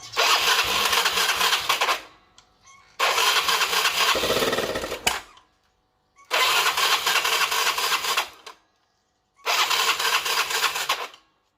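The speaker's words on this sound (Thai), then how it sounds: "ออนกุญแจสตาร์ท เดี๋ยวเดี๋ยวเดี๋ยวทำไมไม่ติด" Yamaha Fino scooter engine cranking over and over without catching, in four long loud bursts separated by short pauses, with a sputtering, uneven churn close by and no voices.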